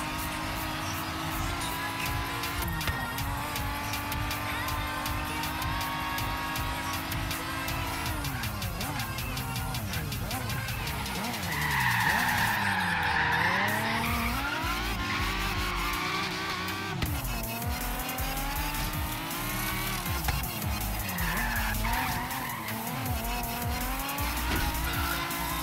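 A McLaren in Forza Horizon 3 races with a loud, continuous engine roar, while tires squeal and skid under hard acceleration, with shifting pitch sweeps and gear changes throughout a long run.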